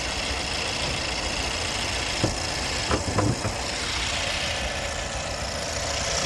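A Nissan Qashqai with the 1.3 engine idles steadily at a moderate level, a continuous low hum with a few brief faint knocks and clicks, and no talking.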